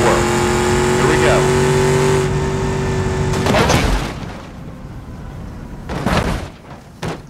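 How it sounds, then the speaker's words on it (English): A semi-truck shoved down a slanted ramp by a force field in the BeamNG Drive driving game: a steady engine drone with a loud crash-like burst at about 3.5 seconds, followed by quieter thuds and a late impact. "we're gonna see if the force field can push a semi-truck that I have put down the ramp"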